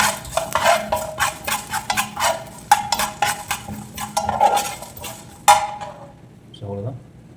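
Spices being stirred in a dry pan as they roast, with repeated scraping and clinking strokes of a utensil against the metal in an uneven rhythm, close and moderately loud, ending in a short low knock.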